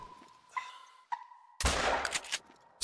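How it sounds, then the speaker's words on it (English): A hunting rifle shot at a turkey in the Call of the Wild hunting game: a quiet tonal hum broken by a couple of clicks, then one loud, sharp blast with a ringing tail. "We're going for the shot, guys."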